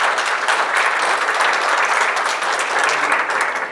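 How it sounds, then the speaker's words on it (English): Dense, even applause fills a lecture hall at OSU after a talk on emergency management and UAVs, holding steady for the whole stretch with no voices over it. "Let's have a round of applause"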